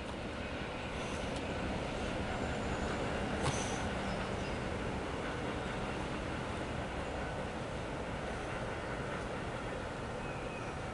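A CSX Q416-22 mixed freight train rolls past with a constant broadband rumble of wheels and cars, steady and fairly close throughout, with a brief squeal midway.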